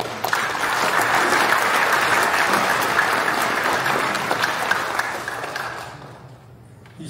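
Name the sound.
congregation applauding in thanks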